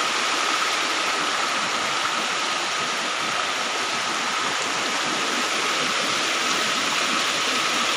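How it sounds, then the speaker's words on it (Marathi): Overflow water from a river pours through a forest stream channel in a green jungle, producing a steady, loud, broadband rushing roar that stays constant throughout with no speech. "ही नदी आहे जे एक्स्ट्रा ते ओव्हरफ्लो होते, इथून या प्रवाहातून इथून बाहेर येते."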